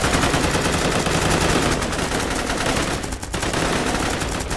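Sustained automatic gunfire from the military shooter game Squad, dense and continuous rattling bursts filling the whole stretch with only a brief dip near the end, no speech over it.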